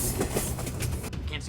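Westbound passenger train rolling fast on the rails, a steady rumbling clatter under emergency radio-style talk, with a brief sharp break near the end.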